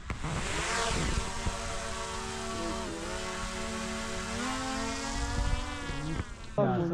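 A fly buzzes close by with a sustained droning whine that shifts slightly in pitch, continuing for several seconds before cutting off.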